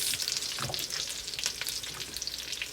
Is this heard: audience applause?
no